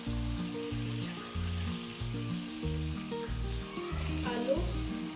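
Carrots, potatoes and peas fry in a pan for aloo matar gajar sabzi, giving a soft continuous sizzle beneath steady background music.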